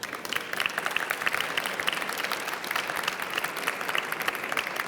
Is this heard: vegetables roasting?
no